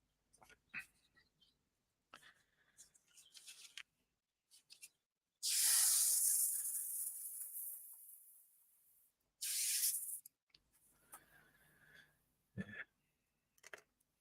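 Spray primer hisses from a can onto a model Albatros aircraft in two bursts, a long loud close spray of several seconds and then a shorter one, between quiet handling clicks and taps.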